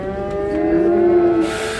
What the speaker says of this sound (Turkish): iki kat komple inek dolmuş